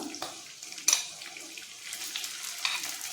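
Cumin seeds and green chillies frying in a pan, a soft sizzle with light stirring scrapes and a few sharper clinks, fairly faint and close, with no talk over it.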